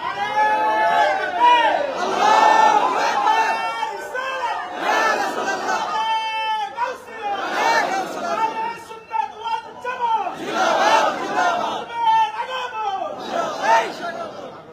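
Large crowd at an Islamic religious gathering chanting a slogan in loud unison, rising in repeated bursts of collective voices with a leader's calls between them, sustained over the whole stretch.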